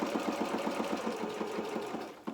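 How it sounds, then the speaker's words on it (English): A sewing machine runs a straight stitch in a steady, rapid rhythmic chatter, close and continuous for a couple of seconds, then stops with a small clunk. "I'm just going to sew it with a straight stitch."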